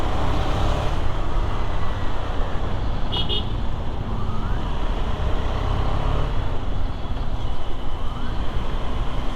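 A KTM Duke motorcycle rides along a road, its engine and road noise forming a loud, steady wash that fills the whole stretch with no break and no talk.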